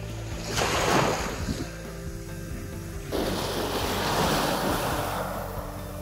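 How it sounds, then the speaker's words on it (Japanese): Ocean waves washing onto a beach at Miyakojima at sunset, a steady broadband surf roar that swells around the first second and again from about three seconds, with some wind buffeting the microphone and no talk. "波の音って聞いたら寝ちゃうよね"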